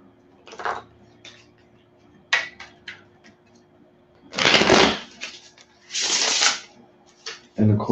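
A vampire-themed tarot deck is shuffled by hand in several quick riffling bursts separated by pauses, close and clear, while a faint hum plays underneath.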